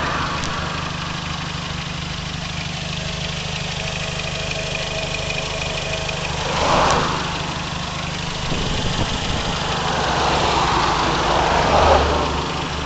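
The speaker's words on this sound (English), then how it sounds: "Now let me show you the engine under the hood" A car engine idles steadily at close range, a constant low hum and rattle with a couple of slight swells in loudness.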